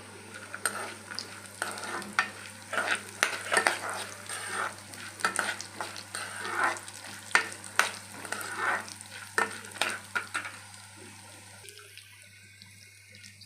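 Potato and Bombay rava mixture ingredients frying in a pan while being stirred, with scraping and sizzling bursts close by, no voices, then a quieter tail near the end.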